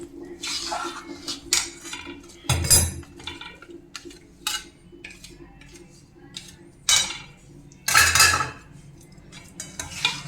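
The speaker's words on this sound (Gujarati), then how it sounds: "આવી રીતે આપણે ગોળને મિક્સ કરવાનો છે લોટમાં" Jaggery is stirred into flour in a metal pan while making adadiya pak, with irregular scraping and clinking bursts of a spoon against the pan separated by short quiet gaps, close and fairly loud.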